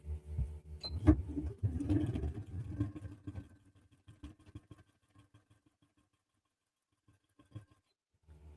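A sewing machine stitches a foundation paper piecing seam, sewing between two numbered sections of a paper template; a loud, steady motor whir runs for about three seconds, then fades to sparse soft taps and near silence.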